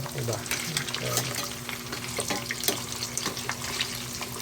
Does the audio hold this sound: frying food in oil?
yes